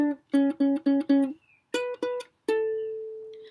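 A ukulele plucks a riff: five quick bright notes, a short gap, two more, then a single note left to ring out. It is played solo and close.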